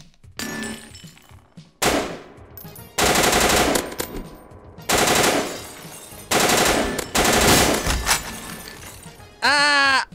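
Bursts of automatic gunfire in Garry's Mod DarkRP, several loud rapid volleys separated by short gaps, ending in a brief warbling electronic tone.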